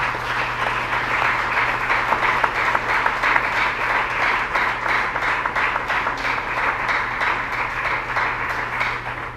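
A church congregation applauds during a sermon, steady clapping from many hands filling the room for the whole stretch at an even, sustained level.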